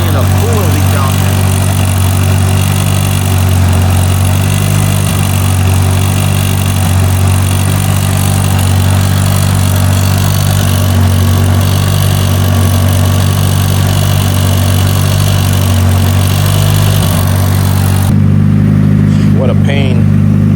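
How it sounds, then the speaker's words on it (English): A built Mitsubishi Evo8 with a fresh tune idles steadily, a loud, even engine drone holding for about eighteen seconds before the level shifts near the end, with no speech over it. "Now we got the car idling good"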